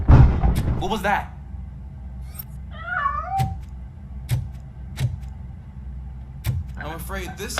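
A cat meows in the RoboCop: Rogue City video game, one short wavering mew standing out between scattered sharp clicks and thuds, with voices murmuring at the start and finish.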